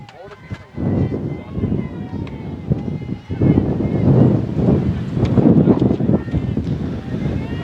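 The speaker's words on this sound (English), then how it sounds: "It's windy." Gusty wind buffets the microphone at an outdoor softball game, a loud, rumbling low roar that swells and surges throughout, with a brief dip near the middle and faint background voices.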